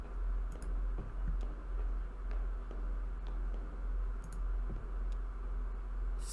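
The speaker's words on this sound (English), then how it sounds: "Footsteps sound goofy as hell." Footsteps in the video game Kentucky Route Zero, soft, sparse clicky taps at an uneven pace over a low steady hum, with no talking.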